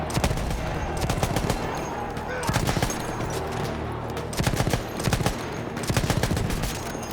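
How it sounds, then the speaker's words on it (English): Bursts of rapid gunfire crackle repeatedly over a constant background rumble, loud and close, from the video game Battlefield 1. "Every gunshot, explosion, and scream feels terrifyingly real."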